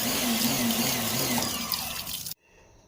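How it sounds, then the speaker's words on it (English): A power washer blasts water inside the gas tank of an old Massey Ferguson tractor, a steady loud hiss and rush with a hollow drumming ring that cuts off abruptly near the end. "I'm going to wash this thing out as much as I can with water first"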